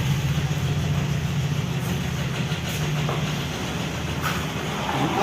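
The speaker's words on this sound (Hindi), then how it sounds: "टाइमिंग का इतना खतरनाक साउंड आ रहा है ना" A Suzuki Dzire diesel engine with a faulty timing chain runs close by, a steady idling drone with a low rhythmic rattle throughout and occasional faint clicks, with no talk.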